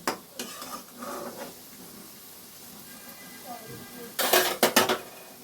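Near the end, a metal lid clatters onto a pan of eggplant cooking in oil, a few sharp bangs following quieter kitchen sounds and a faint oil sizzle; a person talks briefly early on.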